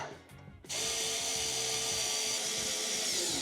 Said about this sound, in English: So we're going to put these bolts in.